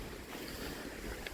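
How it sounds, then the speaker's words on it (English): Wind at the edge of a forest near a Neolithic site rushes steadily and broadband, buffeting the microphone with a rough, continuous roar and no voices. "it's quite windy over here because it's the edge of the forest"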